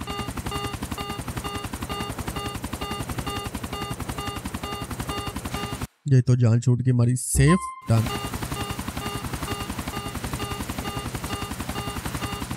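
A helicopter in the video game Grand Theft Auto 4 sets down, its loud steady rotor thump and engine drone running throughout, briefly cut by a burst of game sound as someone talks over it.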